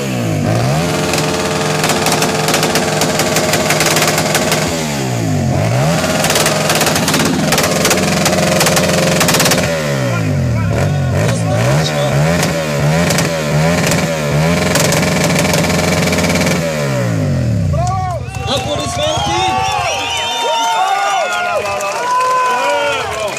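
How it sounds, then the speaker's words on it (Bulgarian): Motorcycle engines rev hard and loud, with sweeping rises and falls in pitch one after another. Near the end the engine drops away, and crowd applause and whistles take over. "Сега още един мотор имаме тук отпред, да си припълним и неговия глас."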